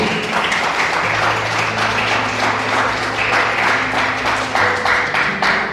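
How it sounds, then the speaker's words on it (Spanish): Audience applause at a church Bible teaching, with sustained loud clapping from a crowd that holds steady for several seconds and swells slightly near the end. "Denle fuertes palmas a Jesucristo"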